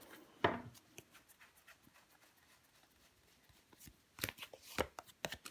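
Tarot cards are handled and laid down on a table in faint, scattered soft slaps and shuffles, with a sharper snap early on and a quick cluster of card sounds near the end.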